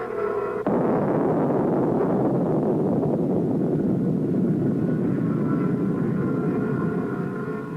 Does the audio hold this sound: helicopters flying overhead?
yes